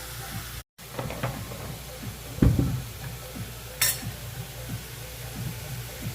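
A spoon stirs seasoning in a cooking pot of Guyanese shrimp stew, giving a few soft scrapes and clinks against the pot over a steady low hiss, with one louder knock near the middle.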